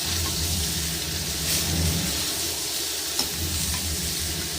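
Boiled sweet potato pieces tumble into a pan of fried onions and are stirred, a soft sizzle with scraping and a few clinks of a spoon against the pan, nearby and fairly quiet.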